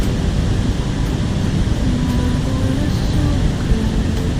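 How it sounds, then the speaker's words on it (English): Falling water at the Chambly rapids makes a steady, dense rushing roar that fills the whole stretch without pause. "I was able to record some of the sound of the falling water"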